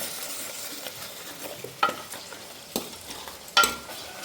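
Mutton simmering in masala in a home kitchen, a soft steady sizzle with a few sharp scraping clicks of a spoon stirring against the pan, close and fairly quiet.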